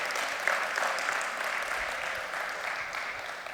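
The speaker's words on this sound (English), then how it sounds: "So, round of applause for our beautiful Institute of Chartered Accountant of India." Steady applause from a conference audience of chartered accountants, a dense wash of clapping that holds at an even level throughout with no voices over it.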